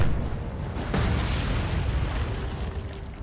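A torpedo strikes a tanker in the naval warfare game War on the Sea, giving one deep, loud boom followed by a long rumbling roar that fills the whole stretch.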